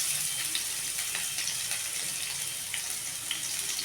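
Onion with green chillies frying in hot oil seasoned with mustard seeds and cumin, a steady close hissing sizzle with light crackles scattered through, no speech.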